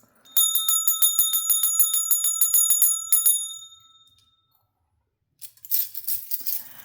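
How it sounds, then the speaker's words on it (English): A small hand bell rings rapidly and continuously for about three seconds, bright and close, then fades to silence before a softer jingle of shaking metal follows. "I'm going to ring the bell"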